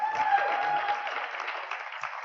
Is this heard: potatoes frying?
no